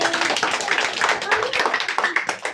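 A group of hands claps in a steady, busy burst of applause after a children's nursery rhyme, with voices mixed into the clapping throughout.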